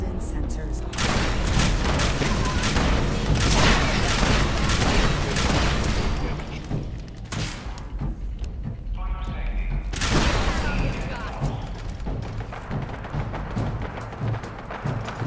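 Dense bursts of rapid gunfire and booms from combat in Fallout 4, with a voice talking over the shooting.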